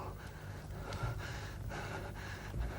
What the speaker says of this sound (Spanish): ¿De dónde nace este jadeo que me atormenta?